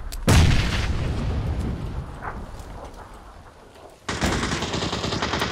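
Gunfire in PLAYERUNKNOWN'S BATTLEGROUNDS: a loud sharp shot opens, followed by a rumbling echoing tail and scattered distant reports, then another heavy burst of fire near the end.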